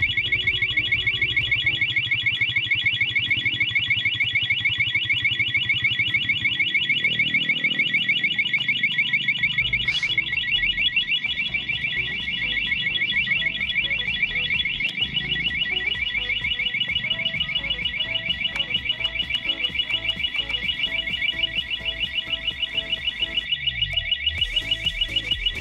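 An SGP motorcycle alarm on a Suzuki Raider 150 Fi sounds loud and close, a continuous high electronic wail running unbroken throughout, with faint mechanical noises beneath.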